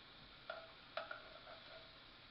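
Zucchini pieces tumble into a pan for a zucchini pasta and get stirred, with a couple of sharp knocks and clinks over a soft, steady background sizzle, fairly quiet and close.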